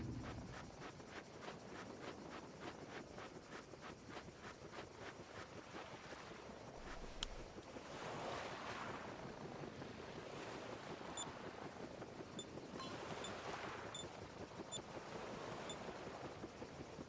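Waves break and wash at the water's edge in the hunting video game Prehistoric Hunt, a continuous faint surf with wind noise, soft repeated rushes and small clicks throughout, with no voices.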